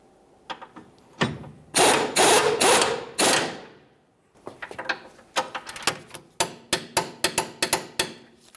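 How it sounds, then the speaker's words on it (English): A ratchet wrench tightens the center mounting bolt of a rear lower control arm on a 2007-2013 Acura MDX. A few loud, close grinding bursts give way to a steady series of rapid, rhythmic clicks, with no talking. "Let's tighten up the center mounting bolt. We're going to torque this to 84 foot-pounds."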